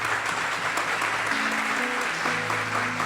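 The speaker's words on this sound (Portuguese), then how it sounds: "Vamos aplaudir Jesus em forte." A church congregation applauding during a Sunday service, a loud, dense, continuous roar of clapping with a low musical drone sustained underneath.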